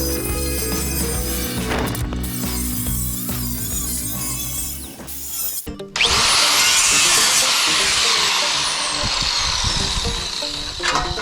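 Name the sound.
power cutter cutting a Mustang rocker panel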